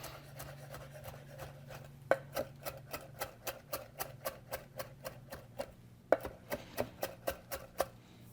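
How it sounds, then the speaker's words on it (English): A knife mincing a rolled-up bundle of an ingredient for Egyptian edamame stew on a cutting board: crisp, fast, evenly spaced chops in two bursts with a short pause between, close and fairly quiet. "I'm just going to give this a quick little mince."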